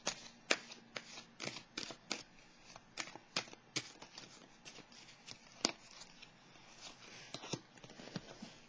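Tarot cards are handled and laid down one by one, giving close, quiet flicks, slides and light taps in an uneven rhythm with no voices.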